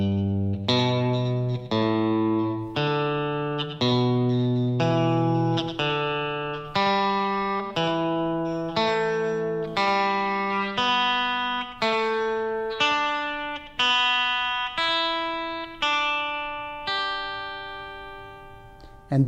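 An electric guitar played through effects runs slowly up a pentatonic scale sequence, one distinct note after another at an even pace. Each note rings clearly and on its own, with no voice over it.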